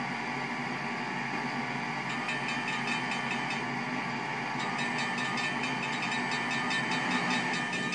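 A tram rolls by on rails during a test run, giving a steady mid-level rumble with faint rhythmic clicking and squeaks from the wheels and no voices.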